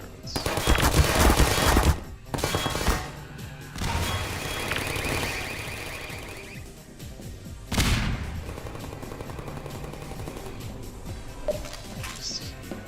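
Turret gunfire in the Killzone shooter game: loud bursts of rapid automatic fire and heavy blasts, with pauses between volleys and a sharp explosive hit near the middle.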